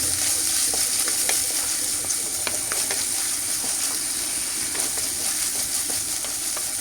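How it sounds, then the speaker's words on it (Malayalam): Mathi curry ingredients, including ginger, garlic and small tamarind pieces, sizzle loudly in a hot pan in a close, continuous hiss, with occasional scrapes and clicks of stirring breaking through. "ഇത് നല്ലോണം വഴറ്റിയെടുക്കണേ"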